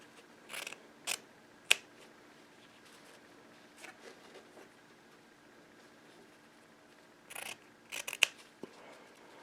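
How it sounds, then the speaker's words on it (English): Scissors cut fabric while a bodice is draped, giving crisp snipping strokes in short irregular bursts, fairly close, with quiet gaps between cuts. "And apparently these scissors have a little dull point, so I need that to go all the way down."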